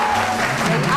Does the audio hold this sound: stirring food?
no